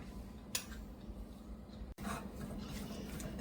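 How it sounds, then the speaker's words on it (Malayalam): Spices being mixed into mango in a bowl, with quiet rubbing and scraping of a utensil, one brief knock, and a steady low background hum. "ഇത് നമ്മൾ മാങ്ങയിലേക്ക് അങ്ങ് മിക്സ് ചെയ്യാൻ പോവുകയാണ്."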